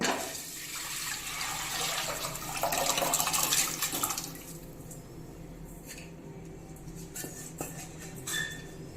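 Tamarind water pours and splashes into a pot for a few seconds, then quieter drips, clinks and small handling sounds follow.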